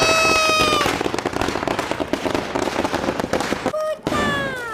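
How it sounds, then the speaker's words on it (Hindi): A big string of firecrackers bursting in a rapid, dense crackling barrage, loud and close, with a whistling skyward shot rising before and after. "तो गाइस ये लड़ी फोड़ते हैं, ये तो बहुत बड़ी है।"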